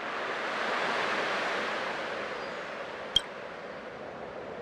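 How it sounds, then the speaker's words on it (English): Ocean waves in the Honkai Star Rail video game, a soft steady wash of surf that swells and fades gently, with a faint click near the end and no talk. "I can still clearly hear the sound of the waves."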